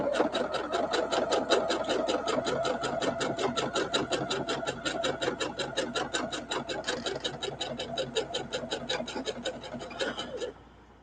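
A sewing machine stitches fabric face masks in a fast, even needle rhythm that runs steadily and close for about ten seconds, then stops abruptly near the end; no speech over it.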